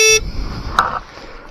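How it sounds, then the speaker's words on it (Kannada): An Ola S1 Pro electric scooter horn gives a short, bright electronic beep near the start, followed by a faint second toot, close by over low background rumble. "ಹಾರನ್ನು"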